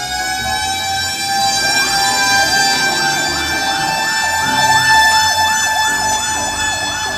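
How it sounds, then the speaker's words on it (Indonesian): A toy fire truck siren wails loudly and continuously, its electronic tone rising and falling in a steady repeating cycle, with no talking. "Di sini ada mobil pemadam kebakaran."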